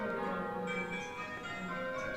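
Bell ringing simulator playing the plain bob major method, a dense overlapping wash of tuned bell tones ringing steadily without a break.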